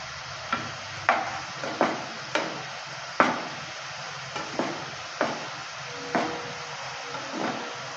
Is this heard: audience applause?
no